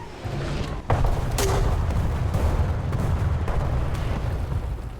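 Battlefield gunfire and explosions in War Thunder's infantry mode, a sharp blast near one second followed by scattered distant shots and booms over a constant low rumble.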